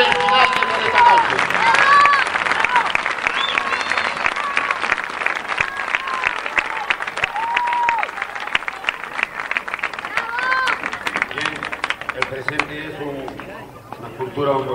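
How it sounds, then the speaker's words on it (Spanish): Audience applause fills the hall at the close of a tribute ceremony for a boxer during the Fiestas del Pino, steady dense clapping with crowd voices and chatter mixed through it for the whole stretch. "Así que ahora sí les pido un gran aplauso porque es el final de esta noche."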